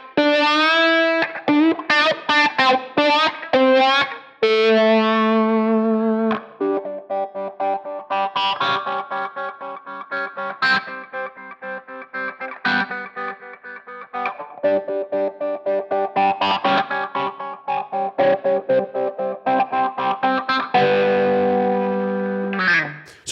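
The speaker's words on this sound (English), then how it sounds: "I'm moving with expression pedal 1, as it's notated here, to go through my typical wah sounds" Electric guitar through a wah effect on a Line 6 Helix, swept with an expression pedal: distorted picked notes and chords with shifting vowel-like tone sweeps, loud and close, no speech.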